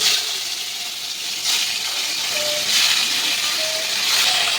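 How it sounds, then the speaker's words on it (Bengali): Salted catla fish pieces fry in hot oil with a continuous close hiss that swells gently a few times, with no voices. "গরম হয়ে গেছে, এবার মাছগুলো ভেজে নেব।"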